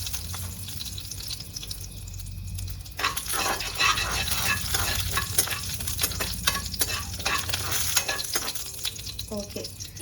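Urad dal frying in hot oil in a pan, a continuous crackling sizzle that swells suddenly and stays busy with scraping stirs, fairly close, no speech.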